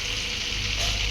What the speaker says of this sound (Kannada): 100 ಗ್ರಾಮಷ್ಟು ಅಮೂಲ್ ಬಟರ್ ಹಾಕೋತಾ ಇದ್ದೀನಿ, ಸಾಲ್ಟ್ ಬಟರ್.